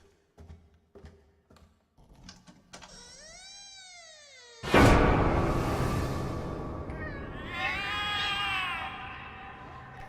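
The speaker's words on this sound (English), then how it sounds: "The cats are alarming." Several cats meow and caterwaul in the horror adventure game The Cat Lady, beginning with faint taps and sparse cries, then a sudden loud burst of overlapping, distressed yowling that stays up close and sustained.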